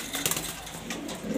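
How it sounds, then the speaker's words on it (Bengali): A male pigeon coos softly and close by, its low murmuring calls running steadily through the moment with a few brief rustles, no voices present. "এটা নর কবুতর"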